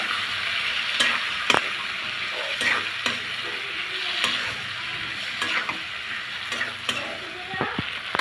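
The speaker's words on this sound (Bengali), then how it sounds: "কাঁচা টমেটোটা আমি দুই মিনিট ভেজে নিব তেলে" Raw green tomatoes frying in hot oil in a pan, with steady close sizzling and spitting throughout and several sharp scraping clicks of a spatula stirring them, no voices.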